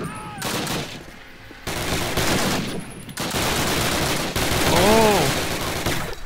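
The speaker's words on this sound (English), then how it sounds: "It's like a machine gun." Rapid bursts of machine gun fire ring out in Call of Duty, loud and close, broken by brief pauses and mixed with other game effects and speech.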